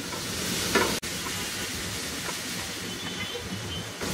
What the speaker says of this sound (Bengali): এইটা একটু নাড়াচাড়া করে নিই